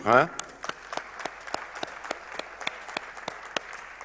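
Sparse applause from a small group at a closing ceremony: a brief voice at the start, then scattered, irregular hand claps continuing at moderate volume.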